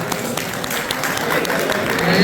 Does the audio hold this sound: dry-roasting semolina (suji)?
no